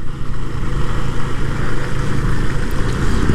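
A Benelli Motobi 152 motorcycle engine running at a steady, loud mid-range drone with a low rumbling pulse, close by and continuous, no voices heard.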